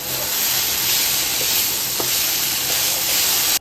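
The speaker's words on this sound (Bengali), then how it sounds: "প্রথমে আলুটা ফটফট কেটে নিয়ে ভাজা বসিয়ে দিয়েছি" Sliced potatoes fry in a pan for breakfast, a close, steady hiss and sizzle of hot oil with a few soft clicks of stirring.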